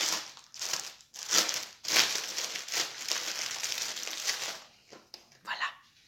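Paper wrapping crinkles and rustles in several bursts as it is removed from a cross-stitch item, close by, with brief pauses between handfuls of crumpling.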